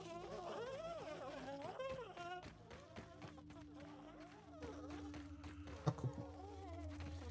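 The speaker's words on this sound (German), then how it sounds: "Boah, das ist eine Biene und da auch." A bee in the video game Grounded gives a steady, low droning buzz that sets in midway and carries on faintly beneath a voice talking over the gameplay.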